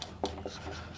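Chalk or pen writing on a board during an electrochemistry lesson: a few short, quiet scratchy strokes in quick succession, faint and close, with no speech over them.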